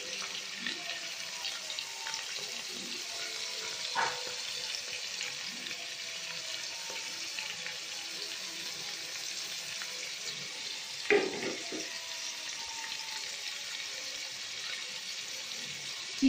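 Chicken with ground spices frying in a hot pan, a steady low sizzle running throughout with faint clinks and a couple of brief louder knocks of utensil on pan, no talking.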